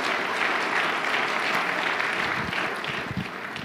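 A church congregation at a Filipino prayer service claps together in sustained, dense applause that stays steady and fairly loud throughout, with no voices standing out above it.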